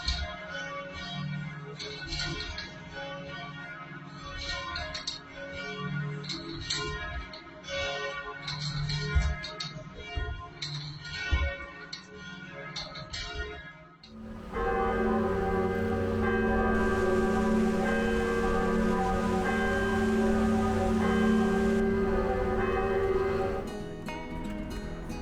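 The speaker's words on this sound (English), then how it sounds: "there's people up there right now playing the bells" Church bells in Perth rung by a team of bell ringers, a dense run of overlapping metallic peals ringing steadily and fairly close, shifting midway into a fuller, continuous wash of ringing tones.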